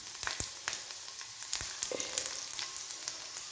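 Beans and plantain frying with ginger and garlic in a pan, stirred, giving a steady soft sizzle broken by sharp scraping clicks of the spoon, close and moderately quiet, with no voices.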